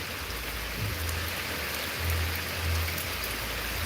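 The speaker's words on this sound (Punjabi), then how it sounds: "ਤੁਹਾਨੂੰ ਤੇਜ਼ ਬਾਰਿਸ਼ ਦੀਆਂ ਤਸਵੀਰਾਂ ਦਿਖਾ ਰਹੇ ਹਾਂ ਤੇਜ਼ ਬਾਰਿਸ਼ ਤੁਸੀਂ ਦੇ ਸਕਦੇ ਹੋ" Heavy rain pours down steadily in a dense, hissing roar with a low rumble underneath. No voices are heard.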